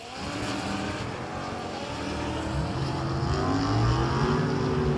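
A Porsche drag car runs down a drag strip, its engine a loud, steady, distant roar that builds slightly in pitch and volume as it goes.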